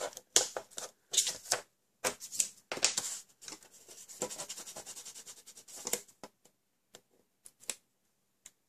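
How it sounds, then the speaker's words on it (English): Tape pulled and pressed along a small handmade desk tidy piece, making close crackling and tearing bursts with short gaps between them, then sparse taps and rustles. "I'm going to add my turn tape all the way along."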